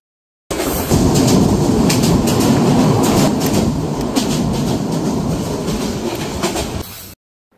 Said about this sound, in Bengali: Burimari express train